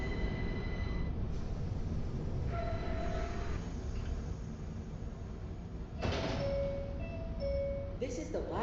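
A subway train arriving at Myrtle Avenue in a video game, a low steady rumble with brief tonal chimes and a door-like whoosh partway through, a recorded station announcement voice heard over it.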